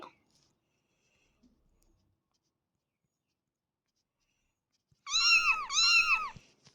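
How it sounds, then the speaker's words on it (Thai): A cat gives two clear, close meows in quick succession. They come right after a long stretch of near silence. "เอาอูดี้แมวไปด้วย"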